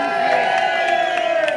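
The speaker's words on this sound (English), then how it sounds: "Give me a cheer for our lovely Ben" A live crowd at an adult comedy weekender holiday camp in Prestatyn cheers and whoops loudly and steadily, a dense wall of voices with scattered shouts rising above it for the whole moment.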